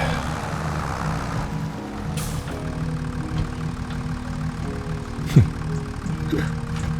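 A tractor engine in a farming video game runs steadily at a low, droning hum while pulling a cultivator. A brief thump sounds near the end, and no one speaks.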